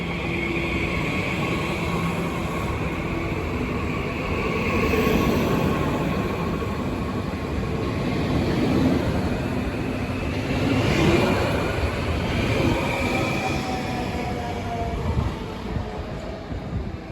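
A climate-controlled Twindex regional train rolls into platform 11 on the Riedbahn, a steady loud rumble of wheels and motors heard from on board, with a few faint squeals as it slows.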